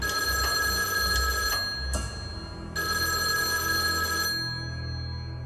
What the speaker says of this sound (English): there was a telephone ring. An old ring. Not a modern ringtone.